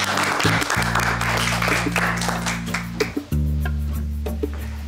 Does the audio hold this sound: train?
no